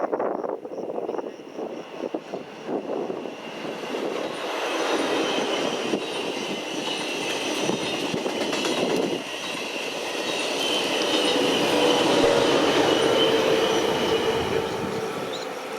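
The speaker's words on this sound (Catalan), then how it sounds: "Un tren sense parada." A train rumbles through a station without stopping, its roar swelling steadily louder over many seconds with a metallic hum of wheels on rails.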